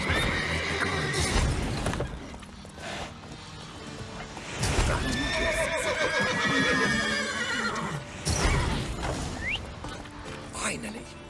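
Horses in The Witcher 3 whinny and neigh close by amid clip-clopping hooves and creaking mechanisms, with several loud neighs spread across the scene and a voice briefly speaking.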